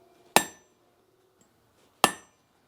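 Two heavy, solid hammer blows on a metal stamp resting on an anvil, each a sharp ringing crack with a short decay, spaced well apart in a quiet room.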